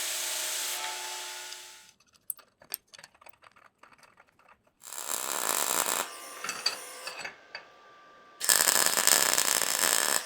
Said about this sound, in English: I'll grind some off the head first so I can get in there to get some weld around it.